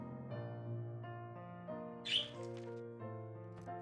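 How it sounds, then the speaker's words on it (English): Birds chirping in the game Wizard of Legend, one bright near chirp standing out from a soft sustained musical drone, with faint fluttering calls around it. "Yes, birds."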